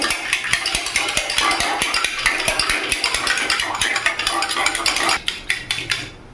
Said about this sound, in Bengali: ডিমটাকে ভালো করে আমি মিশিয়ে ফাটিয়ে নেব।